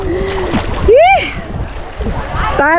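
A person jumps into a river at Minalungao, raising one brief, loud splash among excited voices and shouts from the group nearby.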